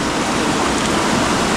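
Heavy, continuous rain at a dam, a loud dense wash of falling water with no pauses.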